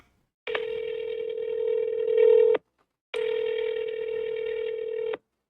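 Two long, steady electronic ringback tones from a phone call to a company's customer line, each about two seconds, separated by a short silence, clear and close with no voices.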